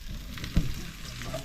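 Garlic and onion sautéing in a hot pan for adobong banana blossom, a soft steady sizzle with one brief clack of a utensil, faint and close.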